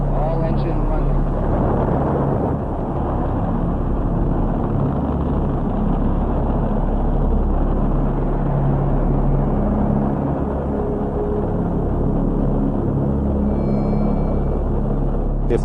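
Saturn V rocket engines roar at launch in a dense, continuous low rumble that fills the whole stretch, with a voice talking faintly over the thunder.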